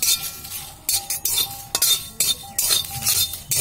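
Ingredients dry roasted in a pan without oil over low heat for a raw mango sweet pickle, stirred with a metal spatula in loud, close bursts of scraping and clinking against the pan.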